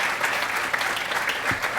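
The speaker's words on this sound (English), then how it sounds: "Please give all our milestone businesses one more round of applause" An awards-ceremony audience applauds milestone businesses, a dense, even wash of clapping held at moderate level throughout.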